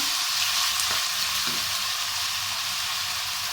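Onions fry in hot oil for Nando's-style peri peri rice, a loud, dense, continuous sizzle with faint stirring scrapes underneath.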